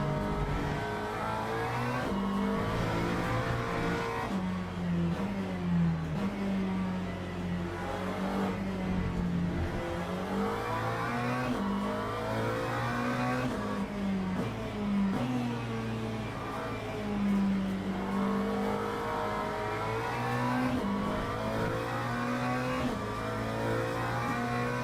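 Race car engine from the Le Mans Ultimate racing game, run on the default setup, drones steadily through the whole stretch, revving up and down through gear changes with a continuous loud roar and no talking.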